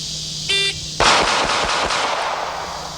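A Kimber pistol fires a rapid string of about five shots at a shooting range, sharp close cracks in quick succession, preceded by a short electronic timer beep.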